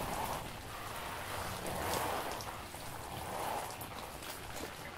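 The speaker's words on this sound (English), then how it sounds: "let them soak, and then water them again." Water sprinkles over seedling trays filled with dry growing media, a soft, steady patter that rises and falls in gentle surges.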